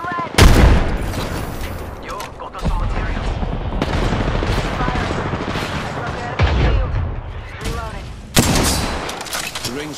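Gunfire in a battle royale shooter game, heavy bursts hitting at the start and again near the middle and end, with dense, continuous firing and explosive noise in between.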